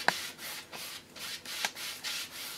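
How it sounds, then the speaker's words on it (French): A brush sweeps over an oil or acrylic mountain painting in slow, regular back-and-forth strokes, a soft close rubbing swish repeating about every half second, with no voices. "alors, on passe la brosse."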